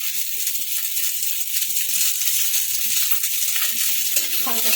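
Okra (bhindi) sprinkled with a little salt frying in a kadai, a steady close sizzle with soft stirring clatter running throughout, no talking.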